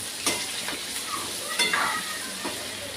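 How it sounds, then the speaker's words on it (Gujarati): Brinjal frying in hot oil with asafoetida, a steady sizzle broken by a few scraping stirs of a spatula in the pan, close and alone with no talking. "પછી આપણે નાખીશું રીંગણા. આપણે નાખ્યા છે રીંગણા."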